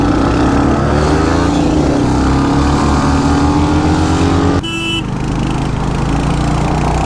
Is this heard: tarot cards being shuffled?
no